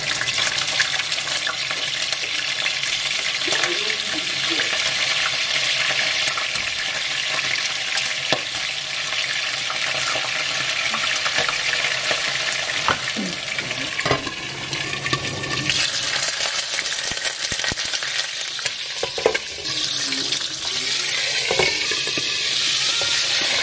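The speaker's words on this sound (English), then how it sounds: "So now I'm putting palm oil here to fry makayabu." Steady, loud sizzling of makayabu salted fish frying in hot palm oil continues throughout, with occasional crackles and small clinks, no talking.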